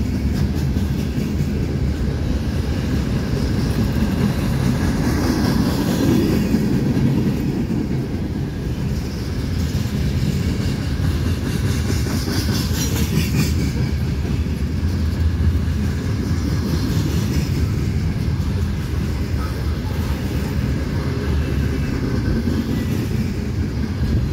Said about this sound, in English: Loads on this train.